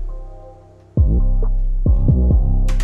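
A sung vocal muffled by a steep 48 dB-per-octave high-cut filter near 1 kHz, the dark, boomy effect made in Studio One, with phrases entering after a short near-silent gap and carrying a low, throbbing warmth.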